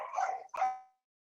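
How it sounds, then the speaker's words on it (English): Dogs barking indoors right after a knock on a door: two close, loud bursts of barking, the second trailing off into silence. "Oh, and now my dogs are barking because I knocked."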